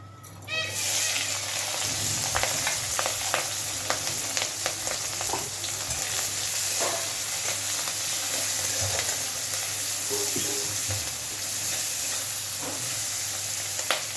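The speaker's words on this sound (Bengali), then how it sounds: "পেঁয়াজটা স্বচ্ছ হওয়া পর্যন্ত একটু ভেজে নেব।" Chopped onion and green chilli fry in oil in a wok, a continuous close sizzle with scattered stirring clicks and scrapes throughout. Faint children's voices and talk sit in the background.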